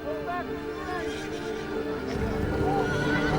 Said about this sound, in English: the horses sort of got in a little argument or something, and then they just went berserk